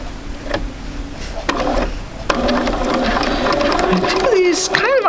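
Sewing machine stitching quilt blocks for a sampler quilt, a steady mechanical whir and ticking hum running continuously beneath a person talking.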